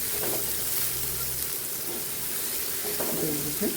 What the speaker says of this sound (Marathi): जिरं मोहरी व्यवस्थित झालं की याच्यामध्ये आपण कांदा टाकून घेणार